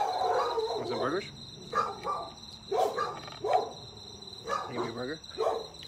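Dog at a Humane Society shelter kennel barks in several bursts over steady insect chirping, loud and close, with brief pauses between barks.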